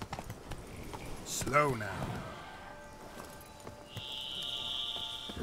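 Horse hooves clip-clopping in an open-world video game, a steady rhythmic trot heard under a man's speech, with game tones and music rising near the end.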